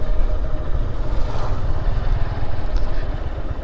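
Strong wind blows along a road lined with casuarina trees, a constant rumbling gust buffeting the microphone with no voices.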